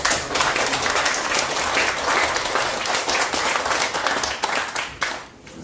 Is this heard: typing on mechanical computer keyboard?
no